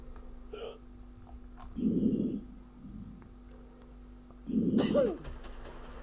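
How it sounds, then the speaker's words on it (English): A character in the zombie quarantine checkpoint game Quarantine Zone: The Last Check hiccups twice, a few seconds apart, each one a short, muffled, fairly close gulp against a quiet background. "He's got hiccups as well, hasn't he?"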